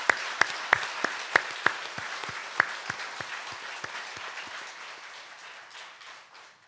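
During a Korean church Sunday service, the congregation claps in a series of sharp, evenly spaced strikes that blend into a wash of applause and then fade out.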